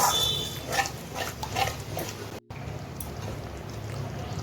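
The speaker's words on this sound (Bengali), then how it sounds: "কষিয়ে নিয়েছি এখন আমি গ্রেভি করার জন্য জল দিয়ে দিচ্ছি জলটাকে আমি ভালো করে মিশিয়ে নিচ্ছি মশলার সঙ্গে" Water is poured into a pan of spice mix for prawn poppy-seed gravy, making a continuous close bubbling, gurgling hiss that cuts out briefly midway and then carries on as a steadier simmer.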